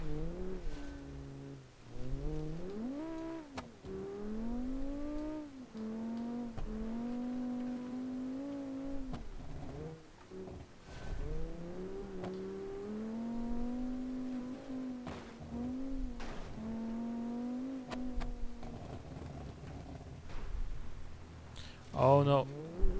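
A classic rally car from a 1984-season rally stage drones and revs, its engine pitch climbing and falling in long sweeps, with a sharper burst of revving near the end.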